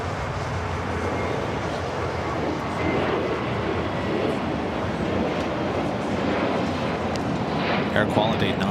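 A jet airliner takes off at LAX on a hazy day, a steady broad engine roar that stays loud and even throughout while people chat nearby.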